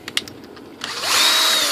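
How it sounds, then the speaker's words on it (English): Power drill spinning a metal pin chucked into it for a model Airbus A380 nose gear build, with a few handling clicks before a loud, close motor whine winds up and holds steady. "We're going to take this pin, chuck it into the drill,"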